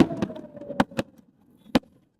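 Fireworks burst at night over Niagara Falls, four sharp bangs spaced irregularly over a couple of seconds, moderately distant, with a low murmur of background noise between them.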